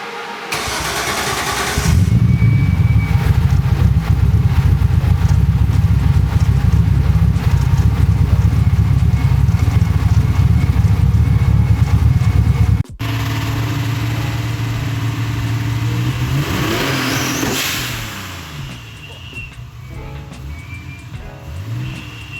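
A Nissan Z sports car engine starts and settles into a loud, steady rumbling idle, then rises briefly in a rev before dropping off to a quieter hum.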